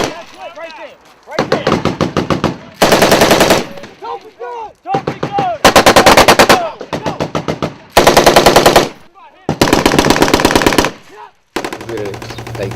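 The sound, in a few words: gunfire, flares and RPG going off in combat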